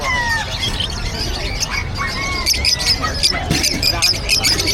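Many birds squawk and chirp in a crowded pet market, their sharp, overlapping calls rising above a busy background of voices and movement.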